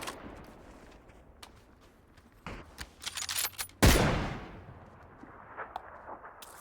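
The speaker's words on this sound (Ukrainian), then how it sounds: "тут команда Зіброва стріляє по команді GSC" Bursts of PUBG video game gunfire crack in quick succession, building to one loud blast before fading into quieter scattered shots.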